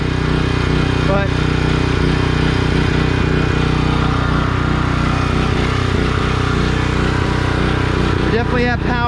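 A Homelite generator powered by a Subaru Robin engine runs steadily and loudly throughout, its engine note surging slightly as it hunts, with faint voices in the background.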